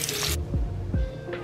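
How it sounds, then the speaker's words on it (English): Water squished and dripping from a wet wig as conditioner is rinsed out, with short wet squelching pulses and trickling close to the mic, no talk. "So now just rinse out the conditioner"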